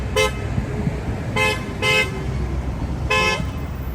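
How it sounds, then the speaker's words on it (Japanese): Car horns toot in several short blasts over a constant roar of traffic on a busy Manhattan street. "うるさいのがマンハッタンです。"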